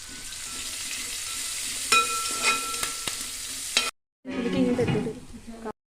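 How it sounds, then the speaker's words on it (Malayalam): Small onions, ginger, garlic and curry leaves sauté in a pan, a close, steady sizzle broken by scraping stirs, then a brief silence before a louder burst of frying. "നമ്മളതിലേക്ക് കൊച്ചുള്ളി ആഡ് ചെയ്യുകയാണ് കൊച്ചുള്ളി നല്ലതായിട്ടൊന്ന് വഴറ്റിയെടുത്തിട്ട്"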